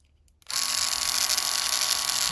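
An Uno Gamma+ single-foil electric shaver switches on after a near-silent pause and runs with a steady, close, high-pitched motor buzz.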